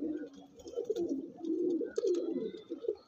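Andhra pigeons cooing close by, soft repeated throaty coos in uneven bursts, with a few faint chirps and no talk.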